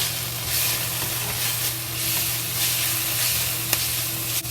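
Collard greens frying in a pan with scrambled eggs, giving a steady, close sizzle and hiss that runs unbroken throughout, with a few faint clicks near the end.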